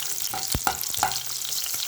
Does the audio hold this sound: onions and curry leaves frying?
yes